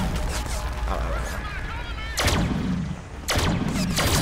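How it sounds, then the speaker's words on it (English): Gunfire in the Deadpool video game, with sharp bursts of shots over busy game noise and effects, the loudest shots landing in two clusters near the end. "Who's shooting at me?"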